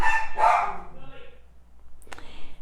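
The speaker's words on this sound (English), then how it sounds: "there's Millie barking at the chipmunks again" A dog barks a couple of times nearby, sharp and brief, with a faint high yip near the end.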